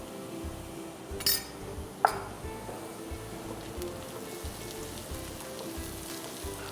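Chopped onion with a pinch of salt sautéing in a pan for bread upma, giving a steady soft sizzle with a light patter throughout and a couple of brief clinks near the start.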